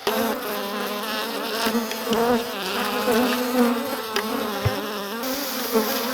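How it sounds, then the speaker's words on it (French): Honeybees buzz loudly and close up around the microphone, a dense, wavering drone with individual insects swooping near and away, continuous throughout. "les abeilles sont infernales, elles attaquent la caméra, elles ont attaqué le micro"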